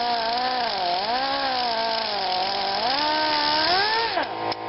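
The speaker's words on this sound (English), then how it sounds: "I could have used a hacksaw if you don't have a cut-off tool, and we'll just trim this down." A cut-off tool whines loudly and steadily, its pitch dipping and rising as it bites into a broken screw on a pool Jandy valve, then drops away abruptly near the end.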